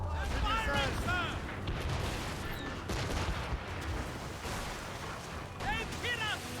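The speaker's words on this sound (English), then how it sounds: "They're firing, sir!" Cannon fire booms and impacts against a ship in the game Assassin's Creed Rogue, loud repeated blasts and crashes mixed with game voices shouting.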